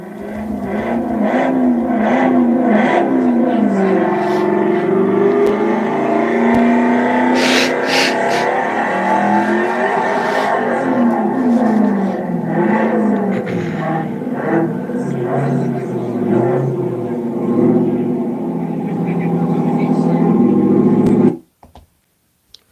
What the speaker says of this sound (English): it's helps your electric truck or your Mach-E sound like it has a V8 engine